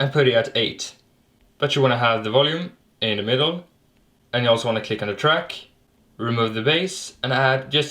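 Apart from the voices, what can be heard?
None of the usual background noises is heard.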